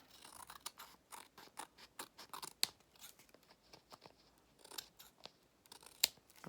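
Scissors trimming paper for a pocket gate folio, a quick run of crisp snipping cuts in uneven clusters, close but quiet, with no talk.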